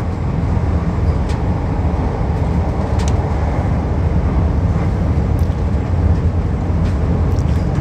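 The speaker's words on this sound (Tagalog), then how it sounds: "Kasi nasa train nga. Nasa train ako." Steady, unbroken rumble from inside a moving train, a dense low roar with faint rattles and a few brief high squeaks or clicks on top.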